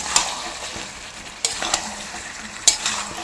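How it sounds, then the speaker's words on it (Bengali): Meat is stirred and fried in a pan for a Bengali curry with dried red chillies, steady sizzling broken by a few sharp scrapes of a spatula against the pan, close and clear with no talking. "চলো মাংসটা আমি কষিয়ে নিই"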